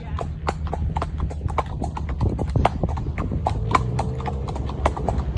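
Horse hooves clip-clop in a steady, brisk rhythm on a hard surface, close by, with a low engine-like rumble and some voices underneath.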